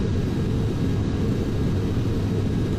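Hawker Siddeley Trident 2E airliner on its takeoff roll down a major Heathrow runway in Flight Simulator X, a steady, loud, unbroken low engine roar with broadband rushing noise and no voices.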